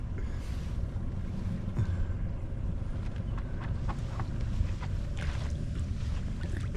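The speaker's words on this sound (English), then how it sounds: "I'm gonna sit up here and drive the boat" Steady low engine rumble of a boat underway, with water and wind noise washing over the microphone throughout.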